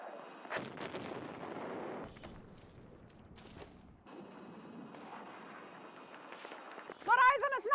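Sniper rifle gunfire in a military shooter video game, sharp shots cracking over battlefield noise and game audio, with voices talking throughout and a loud burst at the end.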